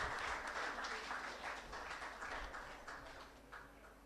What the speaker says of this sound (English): So a big round of applause for all the winners.